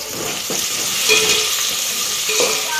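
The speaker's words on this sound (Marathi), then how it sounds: "आता ह्याच्यात आपण टोमॅटो घालून घेऊया" Tomatoes going into a pan of frying onions for masala rice, a loud steady sizzle with stirring scrapes and occasional utensil knocks, no talking.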